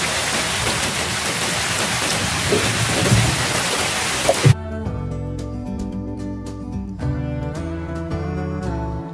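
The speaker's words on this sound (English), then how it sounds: "But this rain is getting damn serious." Dense, hissing heavy rain pours steadily in Uganda during rainy season for several seconds, then gives way to a quieter scene with soft music-like tones.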